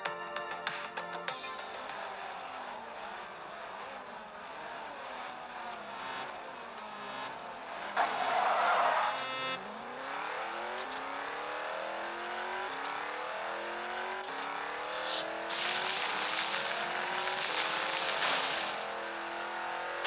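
A Mercedes race car in Rebel Racing drives at speed with a continuous engine drone that shifts pitch through gear changes, plus a short skid burst near the middle.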